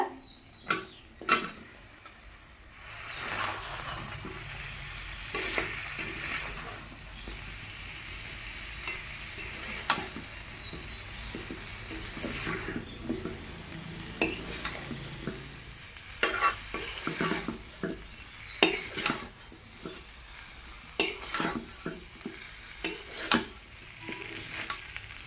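Boiled drumstick pieces and potatoes sizzle and fry in masala while being stirred, steady frying hiss with repeated scraping stir strokes throughout, close and moderately loud, no talking.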